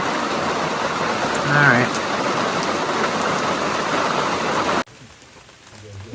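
Heavy rain pours steadily onto a trail shelter as a dense, continuous hiss, with a brief voice speaking over it before the downpour suddenly drops to a quieter patter near the end.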